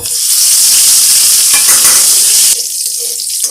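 Cumin, cardamom, cloves and cinnamon frying in hot oil, a loud, close, steady hiss that drops off sharply after a few seconds and continues more quietly.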